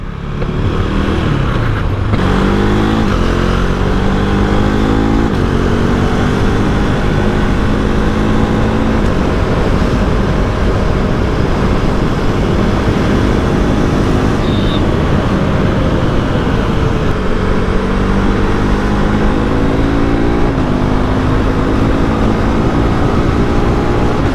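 A 2025 KTM Duke 390 motorcycle rides along a highway with a loud, close engine drone and heavy wind rush. Repeated rising revs and sudden drops in pitch mark the gear shifts.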